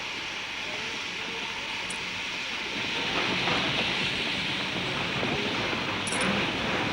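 A steady rumbling train sound with a broad hiss, holding at a constant moderate level throughout with no voices.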